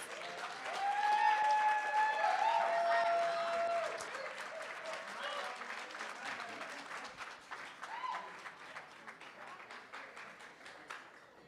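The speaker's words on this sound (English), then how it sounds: "Let's give Hannah a big round of applause, please." Wedding guests applaud after a toast to the newlyweds. The clapping swells early and then thins gradually, with a few cheers and voices mixed in near the start.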